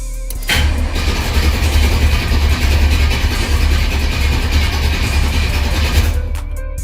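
An Oldsmobile Cutlass engine cranks over with the distributor unplugged, a sustained, loud low churning drone starting abruptly and running steadily for several seconds before cutting off, with no voices.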